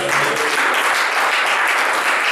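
Congregation at a church revival seminar applauding in worship, a dense, steady burst of clapping that fills the room from start to finish, loud and close with no voice above it.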